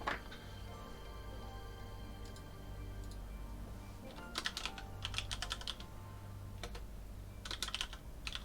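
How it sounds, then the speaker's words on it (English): Fingers type on a computer keyboard, giving faint clicking bursts that come and go over a low steady hum, with brief pauses between the flurries of keystrokes. "let me just type it out"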